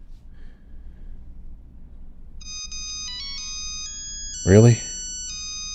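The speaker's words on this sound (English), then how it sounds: "A ringtone?" A phone ringtone plays a bright electronic melody of stepped beeping tones in place of a theme tune, under quiet background noise, and a voice briefly speaks over it near the end.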